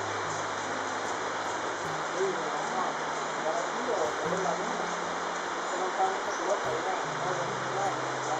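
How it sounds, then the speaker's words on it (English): Steady rain falls on a garden at Rancho Naturalista in Costa Rica, an even, wide hiss of drops that holds at a moderate level throughout, with a low murmur underneath. "the rain was still falling"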